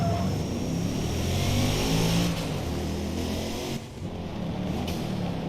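A twin-turbo car in Forza Motorsport revs with a snarling, sustained engine drone that stays loud and close, dipping briefly near the end before picking back up, with no voices.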